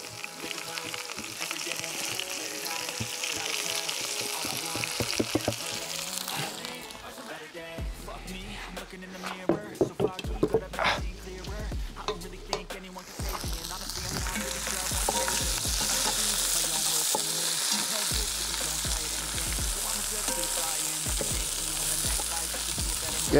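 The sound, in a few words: vegetables sautéing in a Dutch oven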